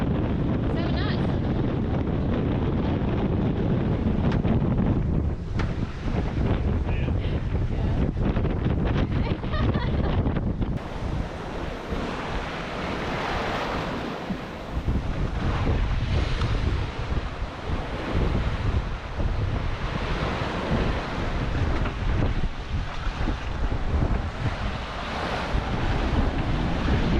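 Strong wind roars across the microphone on a sailboat at sea during a tropical storm, with waves and surf washing constantly beneath it for the whole stretch, loud and unbroken.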